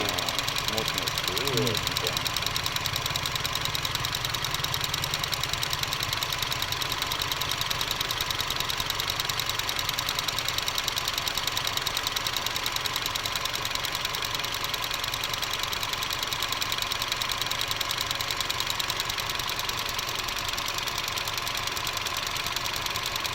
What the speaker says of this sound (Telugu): ఇంజిన్ రియల్ నాయిస్ వస్తూ ఉంది.